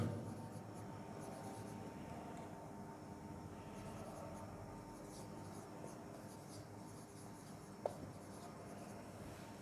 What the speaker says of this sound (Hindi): यहाँ पर मैं लिख देता हूँ